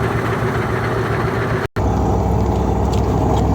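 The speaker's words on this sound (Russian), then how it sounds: "Машин мало. Пока. Это третья машина за сутки." A car on a road beside the Indigirka river, a steady loud engine and rolling road noise close by, with a brief cut partway through before the rumble continues.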